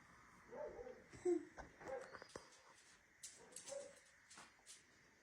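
Dogs at an animal shelter whimper, yip and bark softly in bursts, quiet and somewhat distant, with a faint voice in the background.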